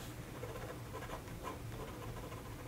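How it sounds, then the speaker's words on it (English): A fountain pen with a flexible normal nib drawing on paper, producing a soft, continuous close scratching with faint rhythmic strokes and no talking. "This is a great drawing pen. Doesn't skip. Doesn't mind which way I push it."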